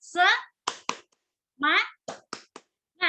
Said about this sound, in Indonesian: Yuk, kita tepuk semangat ya.